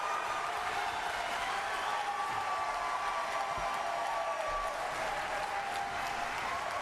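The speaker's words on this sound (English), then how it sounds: "And now, to the live audience, your chance to applaud your candidates." A live audience at a televised congressional district debate breaks into sustained applause for the candidates. The clapping stays dense, steady and loud, with no one speaking over it.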